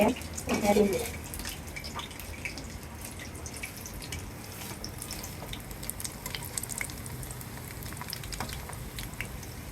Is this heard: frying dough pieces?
yes